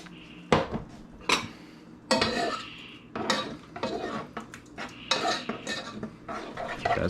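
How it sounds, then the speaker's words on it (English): Rice stirred in a pan with onions, garlic and thyme, heard as a series of close metallic scrapes and clanks of a utensil against the pan, irregular and fairly loud, with no talking. "That stirred around with the onions and garlic and the thyme."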